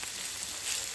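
Mushrooms sizzle steadily in a hot pan, a continuous close crackling hiss with no talking.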